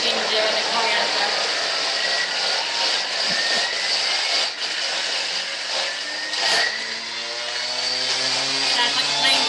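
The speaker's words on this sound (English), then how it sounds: "So that's going to blend all that up and chop it all up, all the spices and those fresher herbs, the garlic and the ginger and the coriander." A Thermomix blends and chops spices, fresh herbs, garlic, ginger and coriander, giving a loud, steady high-speed whirring roar with rising and falling pitch sweeps, like a plane taking off.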